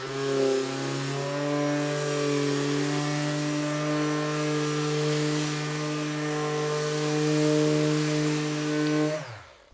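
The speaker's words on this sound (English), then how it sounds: "Let's try the much more violent and vibey Makita" A Makita power tool runs steadily at high speed in a woodworking test, a loud continuous motor whine with strong harmonics lasting about nine seconds before cutting off abruptly at the end.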